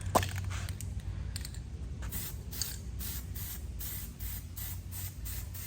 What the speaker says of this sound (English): And lightly spray everything.